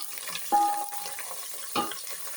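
A chicken biryani mixture with coriander being stirred in a pot, giving two brief scraping swishes over a faint sizzle, with no one speaking.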